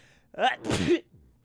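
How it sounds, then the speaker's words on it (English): A single sharp sneeze from a person, a quick inhaled build-up followed by a loud explosive burst, close and alone against near silence. "That was quite a sneeze."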